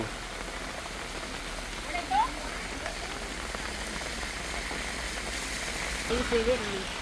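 Steady rain falls across an open-air walking street market in Kut Bak, a dense hiss continuing throughout with brief voices and market bustle rising at moments.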